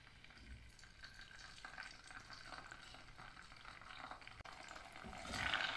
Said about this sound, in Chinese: 老豆腐煎一下